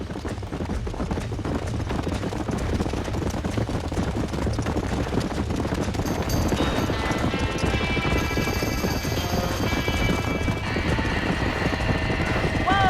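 Horses neigh and whinny with hooves clip-clopping amid a roaring fire in a burning barn in the Wild West game Red Dead Redemption, loud and continuous, with urgent shouting voices and crashing debris layered over the blaze.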